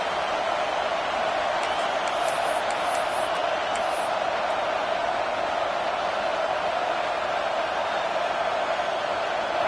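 A stadium crowd at a college football video game, Illinois against Nebraska, keeps up a loud, steady roar through the whole stretch, with a few brief whistles or whoops rising above it on a big third down.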